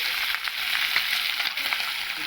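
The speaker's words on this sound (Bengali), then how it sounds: "তেল কম দিয়ে অল্প অল্প মাছ ছাড়লে তাহলে ফাটবে না" Small batches of fish frying in a little oil in a wok over a home stove, giving a steady, loud, close hiss of crackling oil with no break and no voices.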